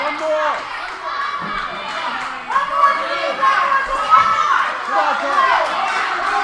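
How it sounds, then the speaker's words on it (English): Crowd noise at a fitness event, a busy mix of many voices calling, shouting and cheering throughout, steady and fairly loud with a few louder swells, close around the listener. "The crowd is sounding fantastic."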